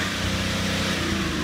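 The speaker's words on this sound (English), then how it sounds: "as we get the revs up high" A BMW common-rail diesel car engine roars at high revs, a dense sustained drone with no letup across the short stretch.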